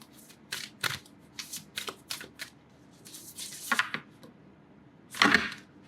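Oracle cards being shuffled, a series of quick crisp riffling bursts and flicks in close, quiet bursts with short pauses between.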